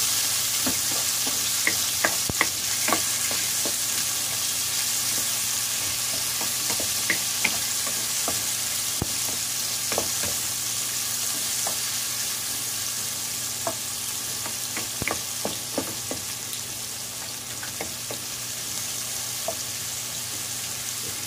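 Deseeded chopped tomatoes fry in a pan for sweet and sour tilapia, giving a steady loud sizzle throughout with scattered clicks and scrapes of stirring, close and without talk.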